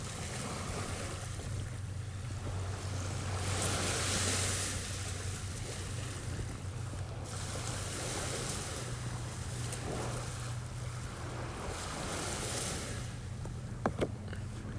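Ocean waves wash steadily onto the beach at Port Townsend, a broad, continuous rushing surf with gusty wind noise on the microphone and a low hum underneath.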